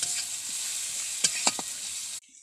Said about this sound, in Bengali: তারপর ভালো করে নেড়ে চেড়ে কষিয়ে নিচ্ছি।